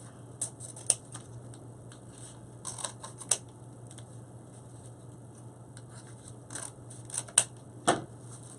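Scissors trimming mesh for a football wreath: scattered quiet snips and crisp cutting clicks, some in quick pairs, over a low steady hum in a quiet room.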